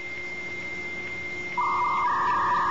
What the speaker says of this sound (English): What you're hearing is the ThinkPad actually making a phone call to Northern's network.